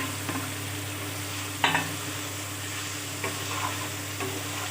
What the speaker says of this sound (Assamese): মই কাটি ৰখা ভোলখিনি আৰু ফ্ৰাই কৰি ৰখা আলুখিনি দি দিম